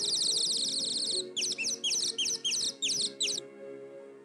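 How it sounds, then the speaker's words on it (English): Nightingale singing outdoors, a sustained high warble followed by a rhythmic run of about eight repeated chirping phrases, clear and fairly close over a low background hum. "Oh, listen! A nightingale!"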